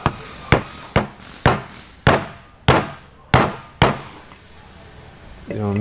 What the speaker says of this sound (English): Just grab your hammer